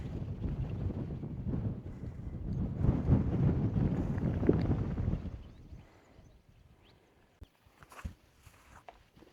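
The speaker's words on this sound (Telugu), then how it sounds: "విండ్ అయితే చాలా ఎక్కువగా ఉంది." Strong wind gusts buffet the microphone at the top of the Gadikota canyon, a loud rumbling roar for the first six seconds that then drops to fainter gusts with a few small knocks.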